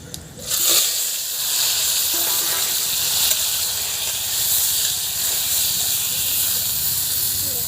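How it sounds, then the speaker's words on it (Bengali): Hog plum (amra) pieces hit hot oil seasoned with dry red chillies and five-spice for a pickle, setting off a loud, steady sizzle that starts abruptly and keeps going close up without a break. "আমড়াটা কিন্তু একটু ভাজা ভাজা করে নিলাম।"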